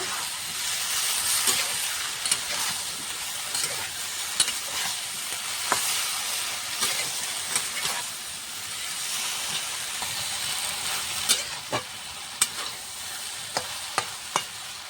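Kochur loti (taro stolons) frying in a pan with salt and turmeric, a steady hiss and sizzle with scattered sharp scrapes and clicks from stirring, close and continuous for the whole stretch with no talk.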